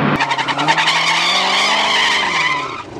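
Drag race cars launch at a Mexican autodrome, a loud burst of tire squeal and skidding swelling over roaring engines for about three seconds, close and continuous before easing off at the end; a Chrysler SRT faces a Camaro.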